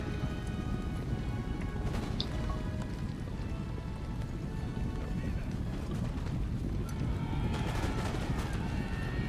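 Musket volleys ring out during a Napoleonic battle in Total War: Napoleon, with dense crackling gunfire blending into a constant roar of battle noise and faint voices.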